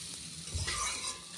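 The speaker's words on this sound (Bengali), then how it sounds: "বাঁধাকপির মশলা কষানো হচ্ছে" Spices sizzle softly in a pan while they are stirred for a cabbage and potato curry with cumin and bay leaf. The sound is a faint, even frying hiss with a brief scraping swell from the stirring.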